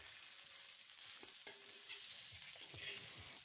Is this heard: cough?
no